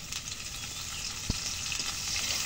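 Dried fish frying in oil on a clay stove, a faint, steady sizzle with one sharp pop near the middle.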